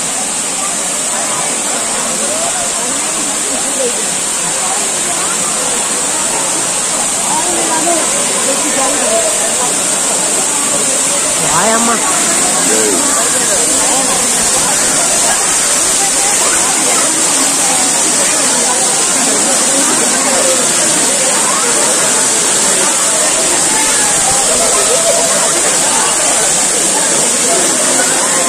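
Bhairawakona waterfall pours down from above in a loud, steady roar of rushing, splashing water that fills the scene throughout, with people's voices faintly mixed in.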